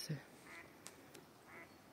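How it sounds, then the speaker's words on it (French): A few faint duck quacks at a distance, short nasal calls spaced apart over quiet outdoor background. "Ouais, les canards."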